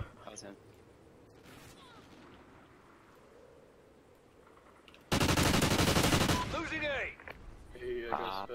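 Gunfire in a shooter video game: a quiet stretch of ambient noise and distant shots, then a sudden loud burst of rapid automatic fire lasting about two seconds, followed by game sounds and voices talking.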